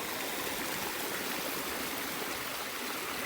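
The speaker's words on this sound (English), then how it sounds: "Look at the expanse of water he's got here, and look how it's flowing down." Rainwater flowing down across terraced rice paddies makes a steady, broad rushing wash, continuous and fairly close, with no voices over it.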